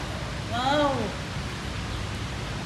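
Rain falls in sunshine as a steady, even hiss, with a brief voice rising over it near the start.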